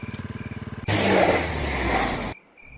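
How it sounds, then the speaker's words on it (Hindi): Motorcycle engine on a village road at night: a rhythmic idling chug, then a loud sustained rev that cuts off abruptly, leaving a faint tone, close and without talk. "सुबोध ने सुविधा के लिए एक मोटरसाइकिल खरीद ली थी"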